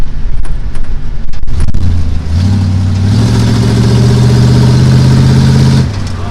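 A shop truck engine, bogged down by a filthy air cleaner, runs loud and close, sputtering and rough at first, then settling into a steady droning hum that rises in pitch before cutting off near the end.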